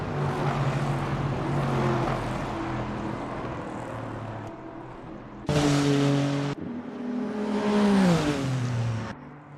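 GT3 race cars at Sepang pull into the pit lane with engine drone rising and falling, a sudden louder car passing close partway through, then another engine note sweeping downward as it slows.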